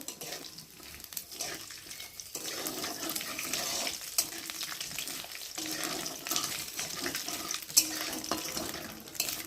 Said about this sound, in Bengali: আমি দেবো তেজপাতা আর দেবো কয়েকটা গোটা জিরে, দিয়ে ফোড়নটাকে ভালো করে ভেজে নেব